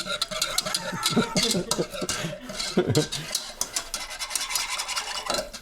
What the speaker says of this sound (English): When there's a bechamel on the stove, you must whisk it.